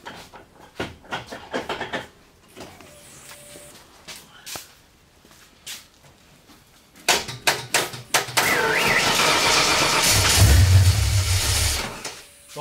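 A Ford Mustang coupe engine cranks and catches after a wire repair, going from sputtering clicks into a steady, loud running roar that fills the second half of the clip.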